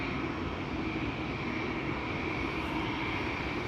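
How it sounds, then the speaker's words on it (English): A KLM passenger jet takes off from runway 24 at Amsterdam Schiphol Airport, heard as a steady, broad, distant engine roar holding at an even level without a break. "KLM Flight 605 to San Francisco is taking off from runway 24"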